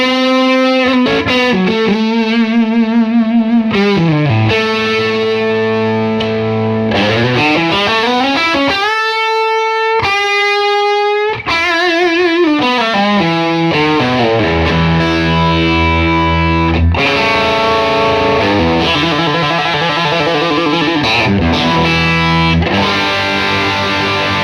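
Electric guitar played through two Mad Professor Supreme Overdrive pedals stacked together, loud and heavily driven, with sustained chords and sliding notes ringing out continuously, no talking.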